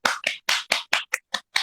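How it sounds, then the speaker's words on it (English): Hand claps during an Instagram Live talk show, eight loud, sharp, evenly spaced claps close up with silence between each and no voices. "Somebody give her a hand clap."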